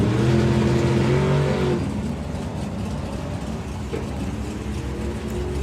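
A stick shift Mustang and its rival rev hard at a drag racing event, the FIA/FIM Main Event 2025, with a loud droning engine note for under two seconds before a rough, roaring burst carries through the rest, with no voices.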